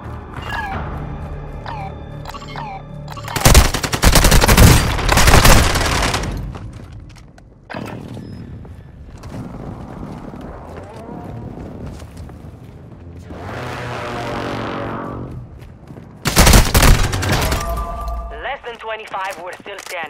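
Heavy gunfire from large caliber rounds in the Mini Royale battle royale game, heard as two loud bursts of booming shots with a quieter rumbling stretch of weaker shots and game sounds between them.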